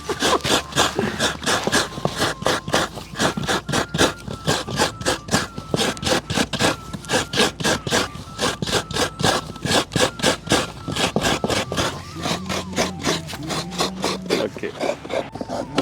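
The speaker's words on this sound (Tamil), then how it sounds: "இந்த தேங்காய் திருற சத்தம் எப்படி கேட்கண்டு பாருங்களா." Coconut being grated by hand: a fast, steady run of rasping scrapes, each stroke close and loud, keeping an even rhythm throughout with a faint low hum near the end.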